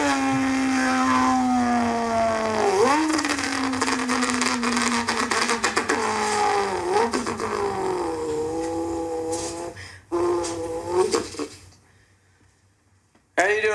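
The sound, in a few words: man imitating car engine sounds with his mouth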